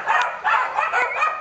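A small dog gives a quick run of yappy, high barks, close and fairly loud, with rain-like noise behind it and no speech.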